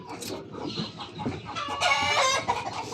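Chickens cluck and a rooster crows close by, scattered clucking leading into a loud, drawn-out crow across the second half.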